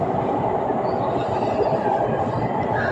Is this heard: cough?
no